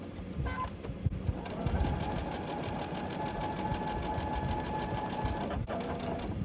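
A sewing machine stitches quilt blocks together in a steady fast mechanical whirr with rapid rhythmic needle clatter, running close and continuous after a brief start, with a faint voice in the background.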